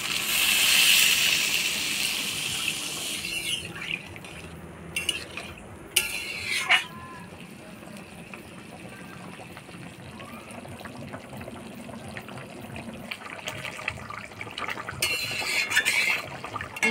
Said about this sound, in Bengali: এবার মাছগুলো দিয়ে হালকা নাড়াচাড়া করে জল দিয়ে দিই।